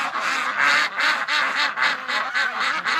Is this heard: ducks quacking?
yes